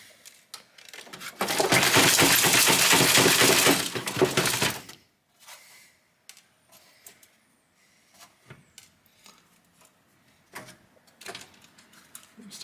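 Broken glass shards rattle and scrape inside the case of a computer shattered in international shipping, a dense loud shaking burst of about three seconds followed by scattered small clinks and knocks.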